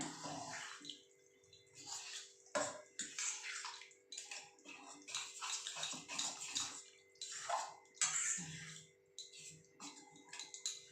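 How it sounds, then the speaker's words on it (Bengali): Milk and water are poured from a bowl into a cooking pot for a banana malpua batter with semolina, giving bursts of close splashing and gurgling liquid separated by short pauses. "আমি এক বাটি দুধ এক বাটি জল দিচ্ছি"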